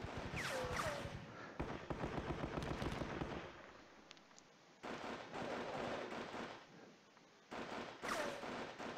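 Rapid bursts of gunfire and explosions from the wargame Panzer Battles: Normandy, set east of the Orne, come in dense volleys, break off briefly near the middle, then resume with loud cracks toward the end.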